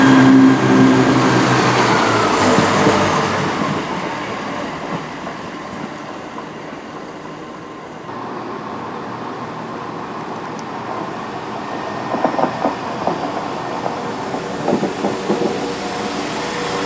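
A Class 172 diesel multiple unit runs on the Snow Hill Lines near Birmingham Moor Street, a steady rumbling roll with rhythmic clickety-clack of wheels over rail joints, louder at first, then settling into a continuous hum with intermittent clatter.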